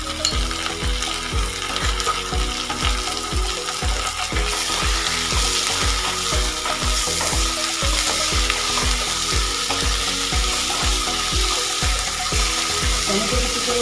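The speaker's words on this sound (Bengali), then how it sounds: "পেঁয়াজের সঙ্গে আলু পটলটা ভালো করে ভেজে নিচ্ছি।" Potato and pointed gourd frying with onion in a pan, a steady oily sizzle broken by a regular series of scraping stirs, close and loud with no talk.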